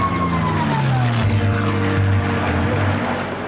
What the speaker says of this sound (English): watch everything from biplanes to jets zoom around an 8-mile course in the desert